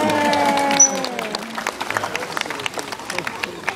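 Audience clapping at a dolphin show at the Vancouver Aquarium, a spread of sharp claps rising after an opening run of tonal, whistle-like calls and continuing steadily to the end.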